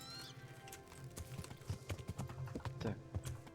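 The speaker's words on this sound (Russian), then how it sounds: "Поехали дальше, конь. Быстрее скачи сюда." Horse hooves galloping in the video game Kingdom Come: Deliverance, a quick rhythmic clip-clop of hoofbeats drumming steadily and close, with no talk over it.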